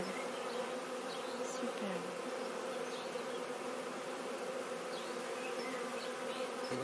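Honeybees buzz as they fly into a refuge hive with a chalet roof, a dense, steady drone with individual bees passing close now and then, fairly faint overall, with one brief spoken word.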